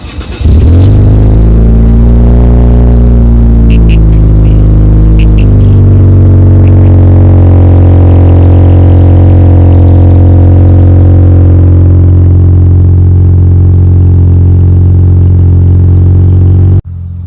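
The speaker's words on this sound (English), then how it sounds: "So I'm going to give you guys a little bit of a cold start." Twin turbo Infiniti Q60 engine cold-starting: a loud crank and catch into a high idle flare, then a steady rumbling idle that settles for many seconds before cutting off.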